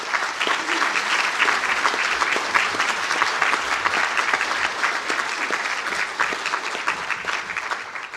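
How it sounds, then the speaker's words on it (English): A sustained round of applause fills a hall at a university conferring ceremony for graduates, with steady, dense clapping from a large audience and no one speaking. "stand for a well-deserved round of applause"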